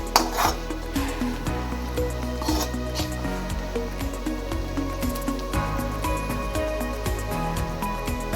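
Onion mixture with chilli, turmeric and pepper powder being sautéed, a soft sizzle beneath a steady rhythm of spoon scrapes and taps against the pan, close and continuous.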